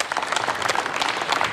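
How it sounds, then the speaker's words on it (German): Sustained, dense applause fills a German parliament chamber, many hands clapping loudly and continuously without any other sound standing out. "Applaus"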